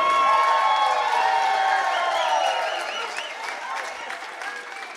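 Wedding reception guests applaud and cheer loudly with whoops and shouts as the newly married couple enters, the dense clapping strongest at first and then easing off to a steadier, slightly quieter ovation.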